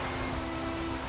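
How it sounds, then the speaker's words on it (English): Rain falling in Skellige in The Witcher 3, a dense steady hiss of drops on surfaces, soft and continuous with no voices. "Couldn't go an episode in Skellige without it raining,"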